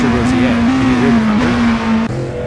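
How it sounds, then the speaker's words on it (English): Le Mans Daytona hybrid (LMDh) prototype race cars in the Assetto Corsa racing game give a loud, steady, high engine drone that holds a nearly constant pitch with slight shifts throughout. "The roaring engines are echoing Hugh Jass's battle cry"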